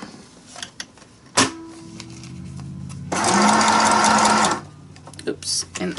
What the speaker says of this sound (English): I'm going to sew it right here